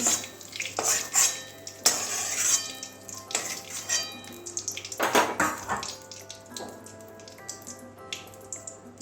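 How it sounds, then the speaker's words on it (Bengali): Potatoes and ivy gourd are scooped together in a pan for a Bengali curry, giving uneven clinks, scrapes and wet stirring sounds close by, with no voices. "একসঙ্গে তুলে নিচ্ছি একই জায়গার মধ্যে আলু আর কুন্দরি"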